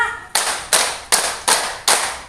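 Many hands clap together five times in a steady rhythm during a clapping game at a work meeting, each clap loud and sharp with a short decay between.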